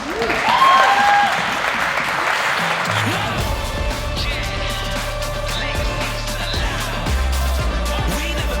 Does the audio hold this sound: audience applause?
yes